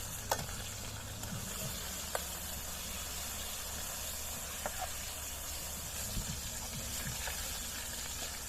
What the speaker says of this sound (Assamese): প্ৰথমে আমি পনীৰ সি ভাজি ল'ম মানে কেৰাহী পূৰা গৰম হৈ গৈছে